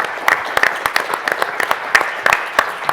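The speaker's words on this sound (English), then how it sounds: "Can we all give Jim a nice round of applause" A modest conference audience gives a round of applause after a keynote, with individual sharp claps standing out clearly in an uneven, fairly close patter.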